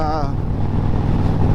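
An Indian Springfield Dark Horse motorcycle fitted with hard lower fairings rides on a chilly morning, a steady close engine and wind rumble running throughout, with a short burst of a voice at the start.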